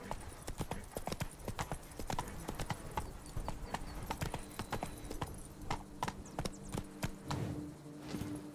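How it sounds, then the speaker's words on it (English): Horse hooves clip-clop steadily on hard ground in The Witcher 3: Blood and Wine, a brisk rhythmic trot heard up close with faint background ambience. "Whoa there, Roach"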